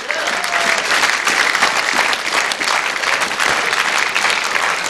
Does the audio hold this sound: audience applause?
yes